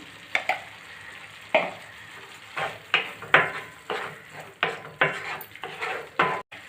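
Masala paste with turmeric fries in a pan under a low sizzle, stirred with a run of irregular scraping strokes and clinks against the pan, close and fairly quiet.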